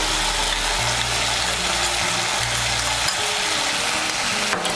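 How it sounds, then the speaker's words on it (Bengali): Whisked sour curd being stirred into hot masala in a pan for a vegetarian banana-flower kofta curry, with a steady sizzle and frying hiss over a low stove hum, alone without talk. "টক দইটাকে ভালো করে মিশিয়ে নেব।"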